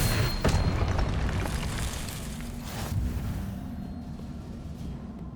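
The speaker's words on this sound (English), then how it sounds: "Expelliarmus!" Expelliarmus spell cast in the video game Hogwarts Legacy, a sharp bursting boom followed by a rushing, decaying magical blast, with a second softer whoosh shortly after.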